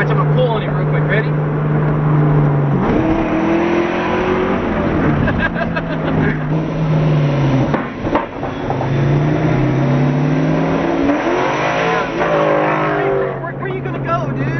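A twin-turbo American muscle car accelerating hard, its loud engine note climbing in pitch through repeated surges and gear changes, close and continuous throughout.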